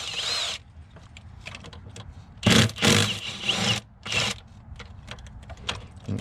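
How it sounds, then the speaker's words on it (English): A power tool backs bolts out of the throttle body on a Ford 3.5 engine, loud whirring bursts of a few seconds each, separated by quieter handling sounds. "let's go ahead and pull these bolts out of the throttle body"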